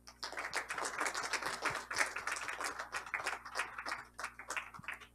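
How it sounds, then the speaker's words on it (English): A modest round of applause at a general assembly banquet, distinct claps from a small group heard fairly faintly over a steady background hum. "and a round of applause, please"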